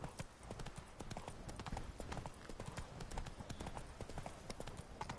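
Horse hooves galloping in The Witcher 3: Wild Hunt, Blood and Wine, a dense, fast, continuous clatter of clip-clop beats close up with no pauses.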